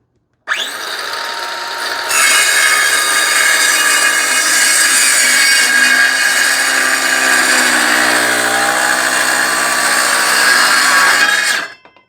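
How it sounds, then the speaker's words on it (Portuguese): A Deko cordless circular saw running on a borrowed T-Cepo battery whines loudly and steadily as it cuts, after a brief lower spin-up, holding one sustained high-pitched tone for about ten seconds before stopping abruptly. "Agora a serra da Deco, eu estou usando a mesma bateria da T-Cepo para não trocar os cabos de novo."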